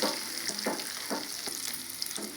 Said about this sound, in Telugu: పోపు అయితే బాగా వేగిందండి, నేను చారులో వేసేస్తున్నాను.